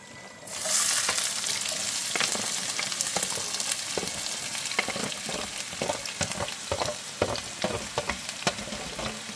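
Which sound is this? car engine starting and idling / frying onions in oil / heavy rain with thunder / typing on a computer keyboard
frying onions in oil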